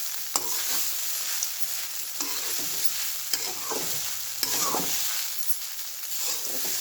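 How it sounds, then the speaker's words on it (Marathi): Poha for kande pohe is stirred and sautéed in a pan: a steady sizzle runs throughout with repeated spatula scrapes and taps at irregular intervals, close and clear, no voices. "आता व्यवस्थित सगळं हलवून घ्यायचं व्यवस्थित आणि जरा हे पोहे पचून द्यायचे म्हणजे की परतले जातील व्यवस्थित"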